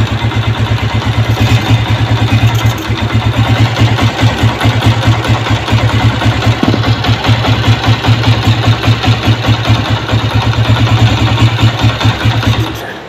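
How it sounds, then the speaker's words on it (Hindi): A motorcycle engine with an air leak runs loud and close in a steady, rapid, slightly uneven throb, holding at a fast idle without a clear stall. "अब जैसे इसको मैं निकालूंगा तो बाइक का जो एक्सीलेटर एकदम तेज़ होने के बाद बंद हो जाएगी।"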